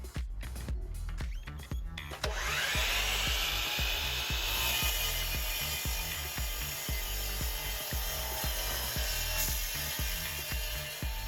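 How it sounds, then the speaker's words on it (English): A saw cuts through a stone veneer siding panel, the continuous whining cut starting about two seconds in and running steadily to the end, punctuated by a regular series of sharp knocking clicks. "let's go cut a panel and we'll see how easy it is"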